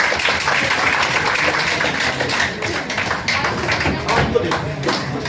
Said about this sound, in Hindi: तालियां जोरदार करके